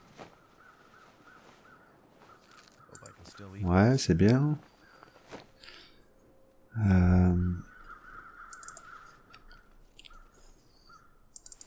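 Crow calling twice in The Long Dark, two loud harsh caws a few seconds apart, with quiet ambient game sound and someone speaking briefly in between.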